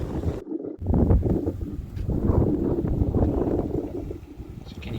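Steady wind buffets the microphone in low, rumbling gusts, rising and falling continuously throughout, close and fairly loud.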